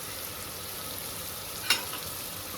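Curry leaves hit hot oil with a steady, close hiss of sizzling, broken once by a sharp pop partway through; no voices.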